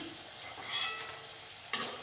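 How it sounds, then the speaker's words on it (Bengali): Peanuts frying in a pan, giving a soft sizzle with a couple of brief scraping stirs, close and fairly quiet with no voices. "বাদাম তো আর ধোয়া যায় না, এই বাদাম কটা ভেজে নেব।"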